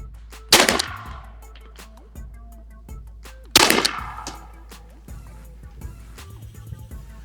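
Two sharp, loud reports from a Defender 2 pistol carbine airgun fired at a target 15 yards away, spaced about three seconds apart, each with a brief metallic ring, followed by quieter handling clicks.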